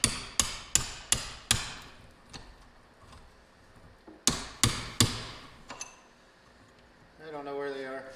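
Chain cross links held in a vise and struck open with a hammer, loud sharp ringing metal blows in two quick bursts of about five strikes each. Someone speaks briefly after them.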